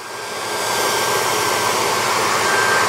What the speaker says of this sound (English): Sure looks like they're shrinking it with an air dryer.